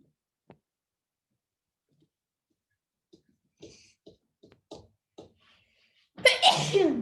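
A loud, close sneeze bursts out at the end, after several faint ticks and soft clicks during an art class.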